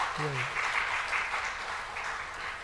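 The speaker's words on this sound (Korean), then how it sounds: "우리 신복순 권사님들 꽃꽂이 하시는데 힘찬 박수로 한번 격려하겠습니다" A church congregation claps to encourage the flower arrangers, a steady moderate wash of applause with a brief voice near the start.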